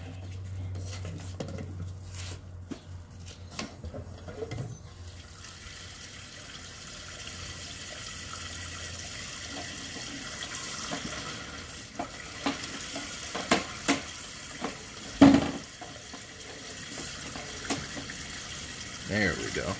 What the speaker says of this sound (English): So we'll run some water down and hopefully get a clear image